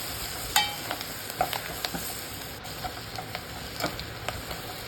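Chenangi leaves with turmeric frying in oil while being stirred, a faint soft sizzle with scattered small spits and clicks of the spoon against the pan.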